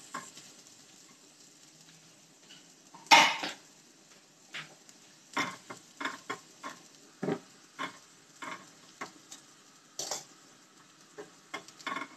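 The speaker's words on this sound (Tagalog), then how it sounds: "So ngayon guys, mag-gisa tayo ng ating pansahog sa ating kangkong." Garlic sautéing in a pan as the base for a kangkong dish: a close, steady sizzle broken by sharp scrapes and clanks of stirring, with one louder burst early on.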